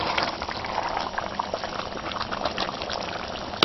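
Vegetable soup boils vigorously in a pot, a dense, constant bubbling and hissing that stays loud and even throughout, with no talk.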